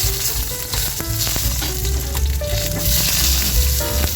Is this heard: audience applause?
no